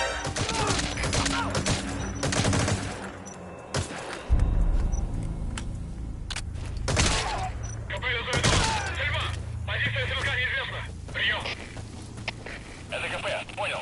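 Rifle gunfire in Metal Gear Solid V: The Phantom Pain, several loud sharp shots scattered among game effects, while a voice talks over much of the scene.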